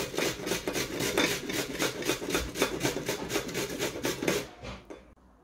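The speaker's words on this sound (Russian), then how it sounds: "берем один большой свежий огурец и натираем его также на крупной терке" A large fresh cucumber rubbed against a coarse grater, giving quick rhythmic rasping strokes at an even pace that run close and moderately loud before stopping near the end.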